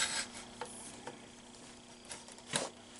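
The telescoping shaft of an Intey metal detector is pulled out to length, giving a few faint, quiet clicks and a soft sliding rub, with no talking.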